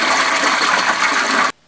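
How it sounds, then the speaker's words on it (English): A toilet flushes in one loud, continuous rushing gush of water that stops abruptly near the end, heard alone without talk. "and the flush toilet."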